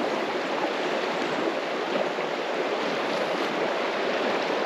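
River water rushes steadily beside a bush camp in a national park, a constant broadband wash that stays even and fairly loud throughout with no voices.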